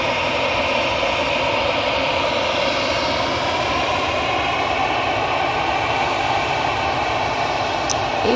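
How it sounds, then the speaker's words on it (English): An EasyJet Airbus A320 jet at Manchester Airport gives a loud, sustained engine roar with a slowly shifting whine, close and continuous throughout with no talking. "EasyJet's A320 in front of us for Catalonia"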